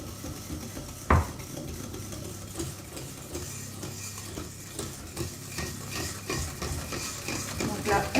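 Liquid, crêpe-like batter for a three-layer magic cake being stirred smooth in a bowl to break up lumps: steady close scraping and swishing, with one sharp clink of utensil against the bowl near the start.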